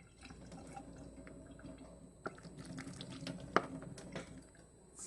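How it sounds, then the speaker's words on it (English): Macaroni water pours out into a kitchen sink, a steady low rush of running liquid with a few sharp clanks and splashes partway through, fairly close and moderate in level. "Now we're gonna drain the macaroni"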